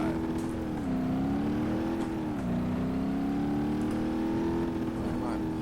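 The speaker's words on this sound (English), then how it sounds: "Big old diesel engine with no muffler." Unmuffled diesel truck engine with a catalytic converter and super low gears in BeamNG.drive, a loud droning rumble that dips and rises in pitch as the throttle changes, steady and close throughout.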